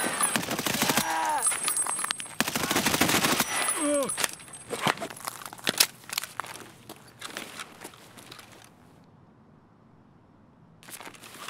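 Bursts of M4A1 rifle gunfire in the video game Escape from Tarkov, loud rapid volleys early on, then scattered shots and footsteps-like clatter fading toward a quiet stretch before a final burst.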